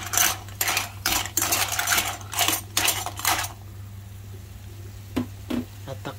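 Clams being stirred in a pot for dinner, giving a run of loud rattling, clattering bursts of shells knocking against the metal over a steady low hum, then a few lighter taps near the end.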